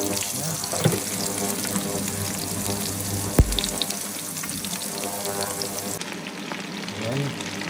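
Chicken sautéing in a hot pan for chicken with cashew nuts, a constant loud sizzle and crackle with stirring scrapes and a brief clatter partway through, no talking.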